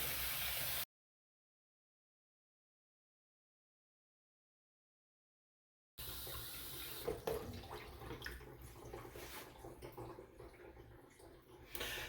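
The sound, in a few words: bathroom sink filling, water running down the overflow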